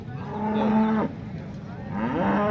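A cow moos twice nearby at a cattle market, a long low call followed by a second rising moo, with no talking.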